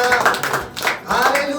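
A church congregation claps loudly in praise as several rhythmic bursts of clapping in quick succession, heard up close with a voice speaking faintly underneath.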